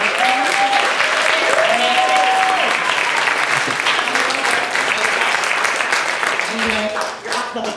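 A symposium audience claps warmly and steadily, the applause full and close, with a few voices and cheers mixed in before it thins near the end.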